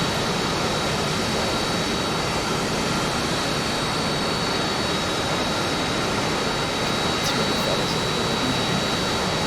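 Steady, loud whine and roar of a Harrier jet's engine as it taxis along a runway in a flight simulator, unbroken and close throughout.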